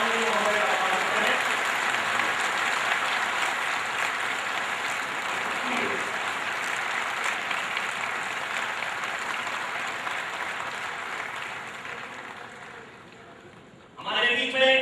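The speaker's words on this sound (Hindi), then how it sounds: "कृपया जोरदार तालियों के साथ माननीय महोदय का स्वागत करें" Clapping from the audience at the 63rd convention of the public works department diploma engineers' association, welcoming a guest: a continuous, even wash of applause that slowly fades, then swells again sharply at the very end.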